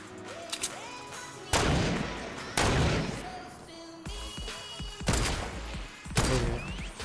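Heavy video game gunfire in loud, booming bursts separated by quieter gaps, each blast crashing in hard and decaying, with game noise in between.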